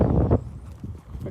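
Soft hoofbeats of an eight-year-old POA pony mare at an easy trot, brief and close, with a loud muffled thump at the start and a voice over them.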